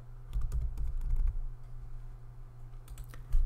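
Keys tap on a computer keyboard in two short bursts of quick typing, fairly quiet and close, with a pause between them and no voices.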